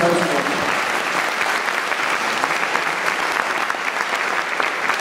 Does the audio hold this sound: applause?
yes